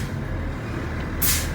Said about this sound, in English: I'm going to start off by pumping the brake 3 times to lose the pressure.